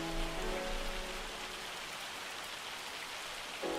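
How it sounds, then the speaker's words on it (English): Steady hiss of rain falling in the video game Farming Simulator 25, a continuous broadband patter with a faint low hum underneath, no speech. "Now it's raining."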